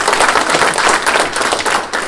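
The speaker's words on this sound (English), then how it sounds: "Let's give them a round of applause." An audience at a chamber of commerce breakfast meeting claps together in a steady, dense burst of applause, loud and close, with no voices standing out.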